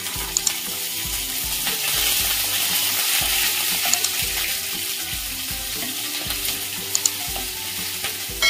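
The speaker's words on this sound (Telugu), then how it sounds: "మినప్పప్పు కొంచెం కలర్ వచ్చే వరకు ఫ్రై చేసుకుంటే చాలన్నమాట." Urad dal, broken dried red chillies and chopped green chillies sizzle in hot oil for tempering, a steady close, dense frying hiss with a few light clicks of stirring and no talking.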